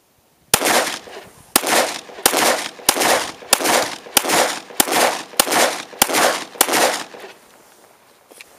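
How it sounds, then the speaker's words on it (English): A Smith & Wesson M&P 9mm pistol fires ten loud, close shots in a steady rhythm under a second apart, each a sharp crack with a brief ringing echo. "Now let's shoot the M&P"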